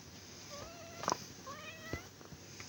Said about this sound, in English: That's the cat meowing at me.